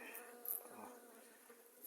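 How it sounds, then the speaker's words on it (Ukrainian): Faint, steady buzzing of American Cordovan honeybees droning softly together, a low continuous hum with no talking. "Гарні, хороші бджоли"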